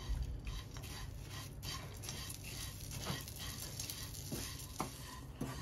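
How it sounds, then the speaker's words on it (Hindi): Dry fruits and grated coconut roast in ghee over a slow flame, giving a steady, soft sizzle broken by occasional spoon scrapes and light clinks against the pan, with no talking. "एक टेबल स्पून इसमें भी घी ऐड करेंगे और स्लो आंच पे इसे भी भून लेंगे"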